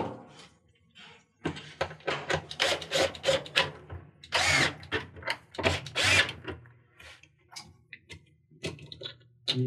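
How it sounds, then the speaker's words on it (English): Power tool drives screws back into the water pump of an Amana washer during a repair, with repeated short bursts of whirring close by and small clicks and handling noises between them. "push it back into place and reattach the 3 screws"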